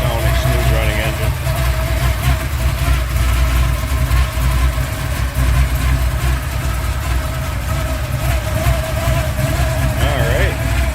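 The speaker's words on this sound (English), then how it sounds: "Great sounding, smooth running engine." A 1972 Chevrolet Chevelle Malibu with a 350 V8, Edelbrock intake and carburetor, idles steadily and smoothly with a deep, continuous rumble up close, no talk over it.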